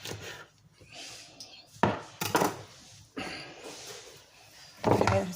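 A knife cutting through collard greens on a board, a few distinct sharp chops and thuds spaced irregularly, with softer rustling of the leaves between them and no talking.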